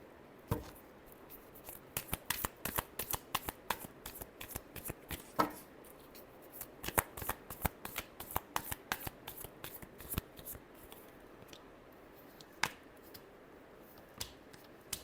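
Tarot cards shuffled by hand in a quiet room, a long run of crisp riffling snaps and flicks in an uneven rhythm, close and clear with no talking.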